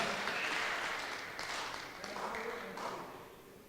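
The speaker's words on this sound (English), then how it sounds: "Let us give a big round of applause to our beloved Bishop Henry D'Souza" An assembly audience at a national gathering in India gives a round of applause for a bishop, with steady mid-level clapping that slowly tapers off toward the end.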